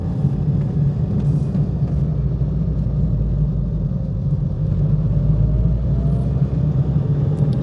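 A Vauxhall Corsa B 1.2 Merit pulls uphill in fourth gear at about 30 mph, a steady low engine and road rumble heard from inside the cabin with no break.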